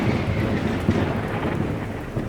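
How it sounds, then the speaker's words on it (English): Loud rolling thunder on a rainy night, with heavy rain pouring steadily as a dense, continuous roar, close and enveloping with no voices. "there was a loud thunder"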